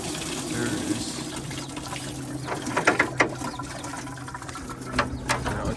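Coolant draining out of a 1995 Chevy Silverado during a water pump job, a steady trickling pour with a few sharp metallic clicks partway through, heard close up under a background hum.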